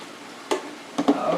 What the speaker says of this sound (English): Okay, they're frying, but they're not ready.